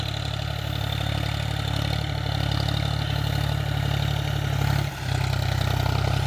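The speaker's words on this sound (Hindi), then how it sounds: "जिस तरीके से प्लाव कार करता है उसी तरीके से ये ट्रैक्टर भी चल रही है" A tractor pulling a 2023 new-model maize sowing machine through a field, its engine droning steadily and loud throughout with a brief dip near the end, no voices over it.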